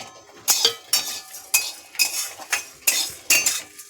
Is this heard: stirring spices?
yes